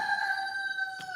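A rooster crows in one sustained, tonal call that holds steady for over a second, heard at moderate distance and fairly faint, with a brief soft thump near the end.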